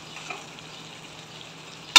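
Eggplants go into a pan of frying tomato masala and get stirred, giving a steady, close sizzle that ends with a sharp clatter.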